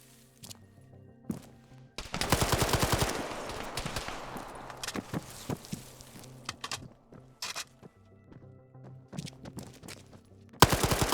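Arma 3 gunfire: a long automatic burst opens, scattered single shots and short volleys crack at varying distances, and another loud close burst closes it.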